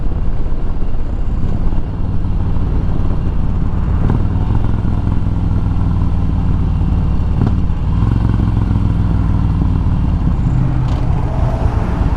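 A motorcycle engine drones loud and close throughout a ride on a hot day, a steady roaring hum with occasional clattering bumps and wind, no talking.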